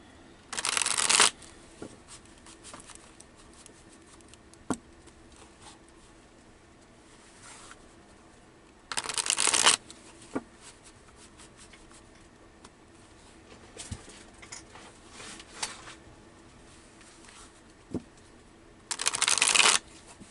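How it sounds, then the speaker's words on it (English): A deck of playing cards is shuffled in three brisk riffling bursts, each about a second long and spaced roughly nine seconds apart, close and loud over a quiet background with faint taps between. "So let's get these cards shuffled."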